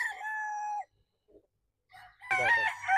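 A Sweater gamefowl rooster crows in two bursts separated by a short quiet gap, the calls clear and fairly close with some faint background clucking.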